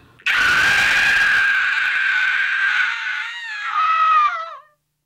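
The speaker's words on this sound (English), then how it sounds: "I do lots of screaming for murder victims" A woman lets out a single long, loud, piercing scream for a murder-victim role, held steadily for about four seconds before wavering and cutting off, alone with no other sound.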